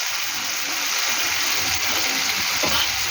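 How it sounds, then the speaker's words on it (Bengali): Water pours steadily into a pan of pakal fish curry with garlic, a continuous broad splashing rush that stays loud and even throughout. "এবার আমি এর মধ্যে জল দেবো"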